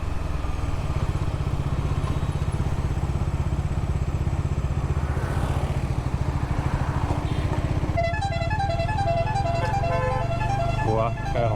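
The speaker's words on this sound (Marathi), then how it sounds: "वा, काय हॉर्न लावलाय" Motorcycle ride through Navi Mumbai traffic: a constant engine and wind rumble runs throughout, then a loud, near, warbling multi-tone vehicle horn blares repeatedly over the last few seconds.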